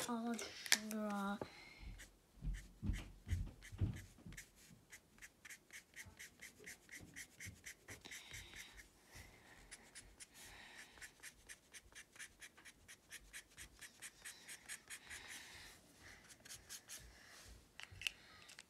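A pen or crayon scratches across paper in quick repeated rhythmic strokes as someone draws and colours, close and soft, with brief talking at the start.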